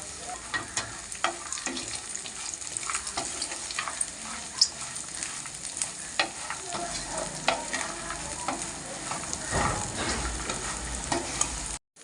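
Ivy gourd and peanuts frying in a pan with spice powder and salt, a steady crackling sizzle broken by frequent scraping stirs, close up and continuous, with no talking.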